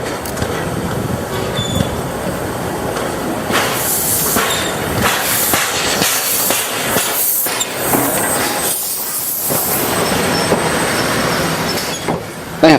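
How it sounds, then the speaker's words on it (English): A Chinese SY-type 2-8-2 steam locomotive, a two-cylinder design, runs with a train, producing a continuous loud rumble of wheels and hiss, with rhythmic clatter and occasional squeal rising and falling. "The SY or Shangyu type, which means aiming high or reaching forward, is another 282 design, built between 1960 and 1999."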